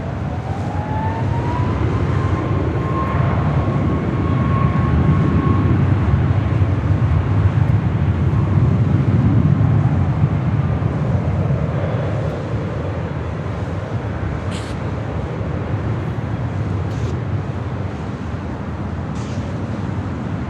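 Airliner taking off from runway 24 left at Los Angeles International Airport, a loud, sustained engine roar with a rising whine that swells in the middle and then fades into distance.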